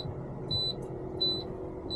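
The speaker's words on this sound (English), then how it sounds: "there's my warning lights and buzzers" A faint high-pitched truck low air pressure warning buzzer sounds in short repeated pulses over a low steady engine hum, inside the cab.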